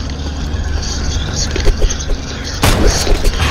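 Shotgun blasts in a scary first-person video game: a series of loud, booming shots over roughly three and a half seconds, with the heaviest burst near the end.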